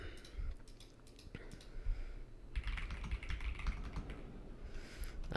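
Someone types on a computer keyboard at a desk, close-up: bursts of quick clicking keystrokes, irregular in rhythm, with short pauses between runs and no voice.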